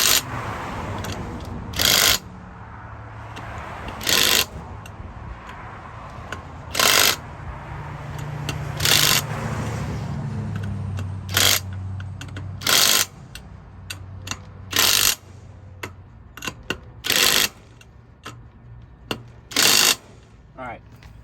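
Trailer wheel nuts being tightened with a ratchet during a flat tire repair, sharp clicking bursts repeating roughly every two seconds, close and loud, over low background rumble and occasional faint voices.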